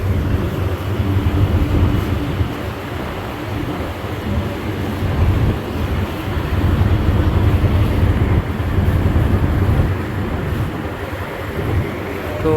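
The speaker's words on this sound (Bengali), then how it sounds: "গতি সম্রাট মানামির প্রপুলার থ্রাস্ট দেখেন একদম নর্মাল হালকা গতিতে সে ডান পাশের ইঞ্জিনকে একদম হালকা চালিয়েছে" Engines and propellers of the MV Manami river launch running at light speed on the right engine, a loud, steady low rumble with a broad churning wash that continues unbroken.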